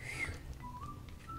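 A person whistles a short, clear tune with a few sliding notes during a casual beauty-product haul, fairly quiet over a steady low room hum.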